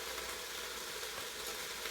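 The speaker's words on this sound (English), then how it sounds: "stir it, let it saute for about 5 minutes" Ingredients for a green coconut chicken curry sauté in a pan, giving a steady, close hiss and sizzle with no voices.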